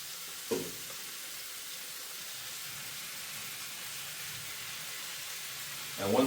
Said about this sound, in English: Add that in, listen for that sizzle, and you should be good.